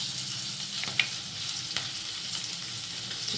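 Bay leaf, chopped ginger, garam masala and chopped chilli frying with egg in oil for an egg pulao, a steady close sizzle with a few light stirring taps, no voices.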